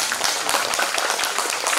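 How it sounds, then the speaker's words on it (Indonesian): Audience applause at an Islamic pilgrimage group launching event, a brief burst of many hands clapping in quick, even rhythm, moderately loud and filling the moment without any speech over it. "Tepuk tangan."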